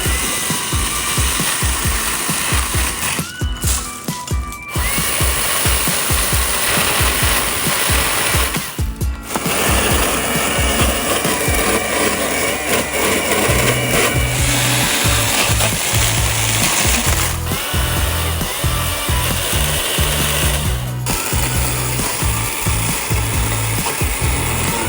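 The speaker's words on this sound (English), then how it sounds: "there you saw us with some footage of using this pole saw out on a little project here at our shop, trimming up that oak tree out front" Milwaukee M18 Fuel Quik-Lok cordless pole saw cutting oak tree branches outdoors, a loud continuous motor whine and chain chatter that holds steady throughout with a few brief dips, no talking.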